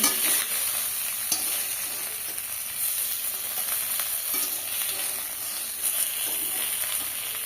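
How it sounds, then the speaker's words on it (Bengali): Small rohu fish frying in a little oil in a pan give a steady, continuous sizzle and crackle at close range, with a few soft clicks and no voices. "অল্প তেলে কত সুন্দর মাছ ভেজেছি।"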